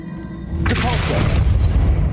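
A Depulso force spell cast in Hogwarts Legacy lands as a loud booming thud with a crackling burst, followed by a sustained rumbling wash; voices may sit faintly underneath.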